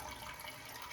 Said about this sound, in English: Every time you sit down, it does like a self-cleaning of the nozzle.